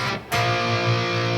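Distorted electric guitar plays a short lick closing a riff from a song in standard tuning; a brief note, a short gap, then sustained overdriven tones ringing steadily and fairly loud.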